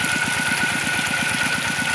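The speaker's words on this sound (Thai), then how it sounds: "เพราะว่าเดี๋ยว เครื่องยนต์จะทำงานหนักเกินนะครับ" A small engine drives a water pump filling a rice paddy, running steadily with a fast, even chugging pulse and a close, loud mechanical drone.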